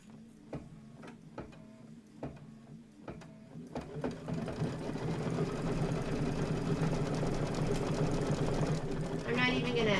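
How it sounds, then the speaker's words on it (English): A home sewing machine stitching back over previous stitches on a quilting sew-along project, first a few sharp ticks and clicks, then a steady loud mechanical whirring hum that runs continuously for the remaining seconds. "I'm not even gonna back stitch. I'm just gonna go over the stitches."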